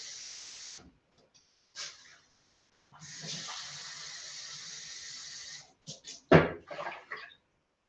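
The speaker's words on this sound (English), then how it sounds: "I'm going to put 2 cups of water in here." Water from a cup pours into a cooking pot in a home kitchen, two short hissing pours broken by a pause, ending with clatters and a sharp knock.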